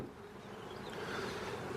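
Honeybees humming at a beehive during autumn preparation for overwintering, a steady close buzzing drone that holds for about two seconds with faint wind noise behind it.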